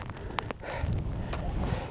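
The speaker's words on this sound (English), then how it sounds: "Hopefully you can hear me over the wind." Gusty wind buffeting the microphone on a mountain summit in Sierra Nevada de El Cocuy, Colombia, a low rumbling roar that rises and stays strong, with a few faint clicks and thuds early on.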